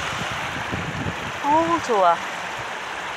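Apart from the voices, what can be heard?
water flowing in a stream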